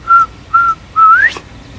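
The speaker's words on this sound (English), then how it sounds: "You know what that whistle is? Hey." A northern bobwhite quail call sounds as three clear, close whistles: two short level notes, then a longer one that sweeps upward at the end.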